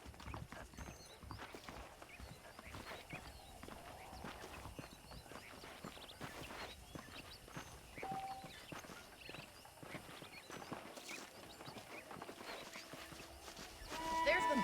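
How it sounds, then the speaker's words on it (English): Horses clip-clopping in the Western video game Red Dead Redemption, a steady rhythmic patter of hooves on ground with faint background ambience, growing a little louder near the end. "The horses are saddled up over here."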